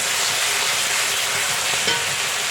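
Spice masala for Bengali ghugni fries in hot oil while being stirred, a loud, close, continuous sizzle with faint scraping from the stirring and no voices.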